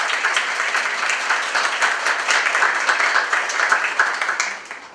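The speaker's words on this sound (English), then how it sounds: "give Ms. Glidden a round of applause" An audience at a 2019 National Honor Society induction ceremony claps in a dense, even round of applause that carries for several seconds, then tapers off near the end.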